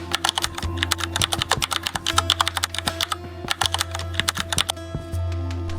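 Close, crisp keystrokes clatter on a computer keyboard in quick irregular bursts, followed by a soft steady hum after the typing stops.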